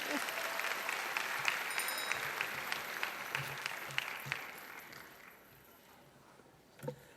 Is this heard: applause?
yes